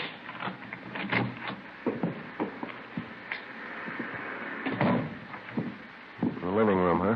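A key rattles and turns in a front door lock, then the door clicks open with short metallic clacks and knocks, amid voices in an old police radio drama.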